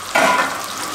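Chicken pieces frying in oil over a medium-low flame for homemade spicy fried chicken, a soft steady sizzle that swells briefly near the start, then settles into a quieter bubbling hiss with no talking.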